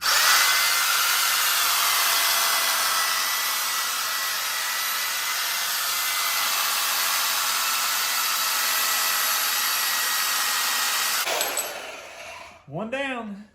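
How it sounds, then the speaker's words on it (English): A bandsaw cuts through quarter-inch metal in a shop, a loud steady whine with grinding texture holding for about eleven seconds before stopping abruptly, followed by a brief clatter. "we got our bandsaw out"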